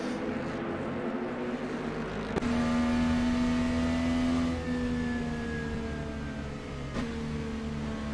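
A GT2 pace car engine revs in the rFactor 2 racing simulator during a Watkins Glen IndyCar race, with a sustained engine note that rises and sweeps, and a few sharp shifts heard close and steady with no talk.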